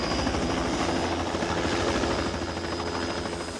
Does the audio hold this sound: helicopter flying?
yes